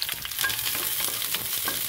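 Garlic and onion sautéing in oil in a pan, with a steady bright sizzle and faint stirring scrapes, close and continuous.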